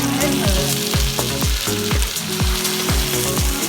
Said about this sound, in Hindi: अब मैं इसको भून लेना शुरू कर दूँगी।